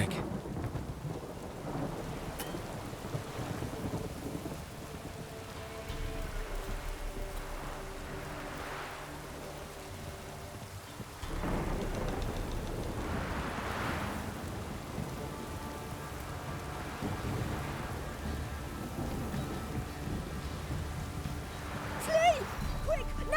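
Heavy rain hisses steadily in a thunderstorm in The Witcher 3: Wild Hunt, with deep rolling thunder rumbling in and a sharper lightning crack near the end, voices talking faintly beneath.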